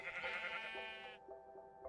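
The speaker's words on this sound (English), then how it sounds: "Just one shot of the sheep with my fist." A sheep in Minecraft bleats after being punched, one wavering, nasal bleat, close and clear, fading near the end, with no talk over it.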